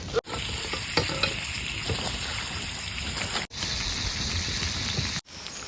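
Fried fish crackling in a pan at a night forest camp, a dense continuous sizzle close by with light stirring and occasional scrapes, cutting off briefly twice.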